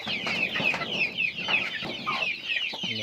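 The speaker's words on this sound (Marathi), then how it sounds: "ही बघा ही कोंबडी आली" Several free-range village hens cluck and murmur in short, repeated bursts, close and moderately loud, with occasional sharper squawks.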